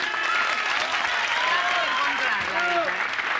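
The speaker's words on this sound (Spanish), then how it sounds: "Le aplaudimos fuerte a Diego Torres." A television studio audience claps loudly and steadily for the full length, a dense wash of applause with a few voices and shouts faintly above it.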